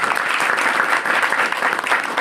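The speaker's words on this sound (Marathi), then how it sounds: "त्यांच्यासाठी एकदा जोरदार टाळ्या वाजवा" An audience at a Maratha reservation rally in Mumbai claps loudly and continuously, a dense, even wash of many hands sustained throughout with slight swells.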